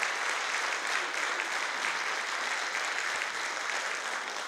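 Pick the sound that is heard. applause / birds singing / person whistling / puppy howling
applause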